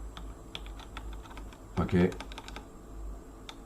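Key presses on a computer keyboard while a Linux i3/bspwm desktop is being driven, scattered single taps fairly close by, with a brief burst of quicker strokes midway where a voice speaks a short word.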